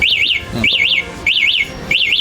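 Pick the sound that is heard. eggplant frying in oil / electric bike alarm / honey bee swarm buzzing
electric bike alarm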